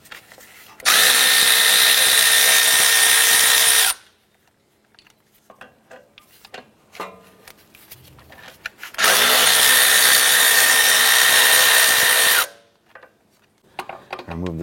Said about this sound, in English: I'm going to remove these two 10mm bolts right here, holding our brake line.